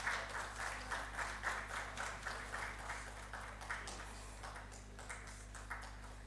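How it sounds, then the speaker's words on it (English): An audience applauds dignitaries on the dais at a national soil health conclave, with quiet, distant rhythmic clapping over a steady low hum. "A big round of applause for all our dignitaries gracing the dais."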